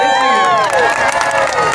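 A street-performance audience at a farmers market claps and cheers after a torch juggling trick, a close burst of crowd noise mixed with voices calling out.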